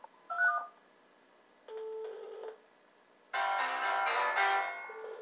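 A landline number dialed through a wireless hotspot device: short bursts of telephone keypad tones, followed by a longer, louder ringing tone through a speaker, with no voices.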